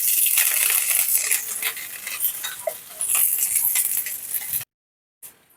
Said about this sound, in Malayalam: നമുക്ക് അതിനകത്ത് കറിവേപ്പില ഇട്ട് കൊടുക്കാം